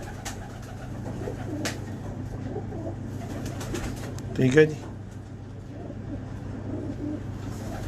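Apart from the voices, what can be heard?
pigeons cooing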